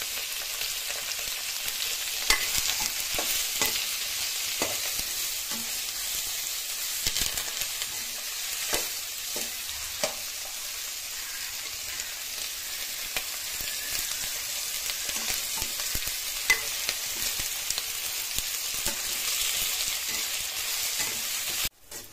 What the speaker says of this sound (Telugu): వేసి ఫ్రై చేసుకుంటున్నాను